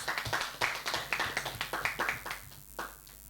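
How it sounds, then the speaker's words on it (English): Claps from an audience at a business registration event for content creators, a small group of hands striking in uneven bursts, crisp and fairly close, trailing off near the end. "Give me a clap, please."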